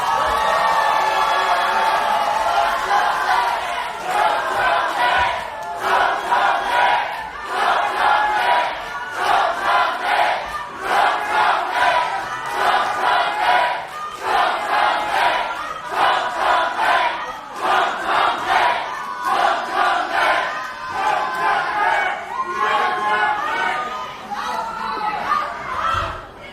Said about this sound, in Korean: 뜨거운 함성과 박수로 모시도록 하겠습니다